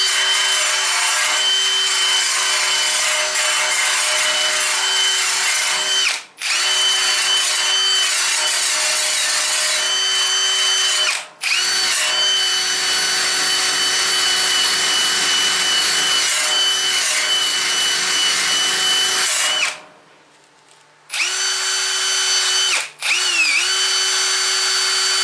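A wire wheel on a power tool scrubs welds on a snow dog chariot frame, a loud sustained high whine with a steady tone. It runs in long stretches broken by brief pauses and one longer stop.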